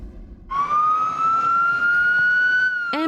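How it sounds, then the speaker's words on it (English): An ambulance siren wails in Winnipeg, with a steady high tone that holds loud and close. It breaks into a different pattern at the very end. "Ambulances rush to Health Sciences Centre in Winnipeg."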